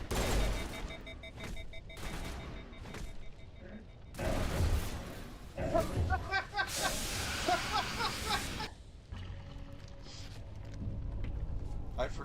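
Video game gunfire rattles in bursts of rapid shots and blasts while enemies are fought, loud and up close, with quieter stretches and a voice talking between the volleys.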